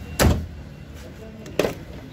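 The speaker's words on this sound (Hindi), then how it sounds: "फ्रंट से खोल कर इसका हम पहले डोर ओपन कर लेते हैं।" Rear door of a 2011 Suzuki Alto opening, heard as two sharp mechanical clunks about 1.4 seconds apart, close by over a quiet background.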